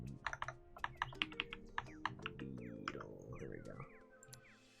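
Rapid typing on a computer keyboard, a quick run of sharp, uneven clicks close to the microphone that tapers off near the end, with no talking.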